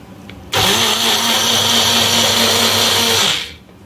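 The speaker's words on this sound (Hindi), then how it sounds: "मैं सब मसाला इधर पीस रही हूँ।" An electric mixer grinder starts abruptly and whirs loudly at a steady high pitch for about three seconds while grinding masala spices in a home kitchen, then winds down and stops.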